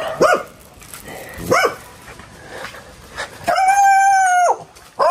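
A dog barks sharply twice, then lets out a longer drawn-out howling whine, close by outdoors, with a faint background hum between the calls.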